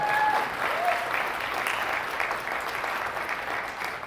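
Guests at a charity fundraiser breakfast give a warm round of applause, steady moderate clapping that fills the room and tapers gently toward the end.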